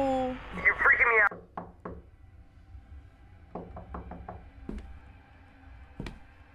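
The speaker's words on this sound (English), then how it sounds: "Somebody is knocking at my door." Knocks on a door in the horror video game Fears to Fathom: Ironbark Lookout: a loud vocal burst first, then scattered single knocks and a quick run of four or five raps, followed by a few isolated knocks.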